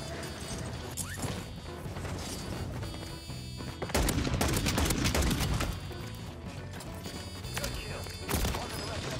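Bursts of M16 rifle fire in the Warzone shooter, a fast crackling fusillade that swells loudest midway, mixed with game noise and crashes under a steady bed of sound.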